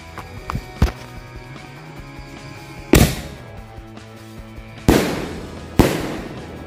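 Firecrackers set off outdoors on the first day of Ramadan crack in a sequence: a few small pops early, then three loud sharp bangs spaced a second or two apart, each trailing into a brief crackling decay.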